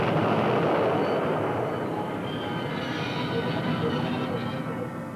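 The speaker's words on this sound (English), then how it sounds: "they derailed a yellow test flask and drove a train into it at 100 miles an hour" A train rams at 100 mph into a derailed yellow test flask for radioactive material, a loud sustained rumbling roar with heavy low-end grinding that fades slightly over about five seconds, with no talking.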